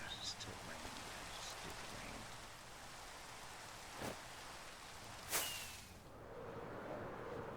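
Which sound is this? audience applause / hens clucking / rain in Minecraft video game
rain in Minecraft video game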